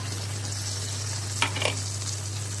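Steady sizzling of fish frying in a pan, with a low constant hum, broken by two brief bursts of hissing spatter as a little water is added partway through.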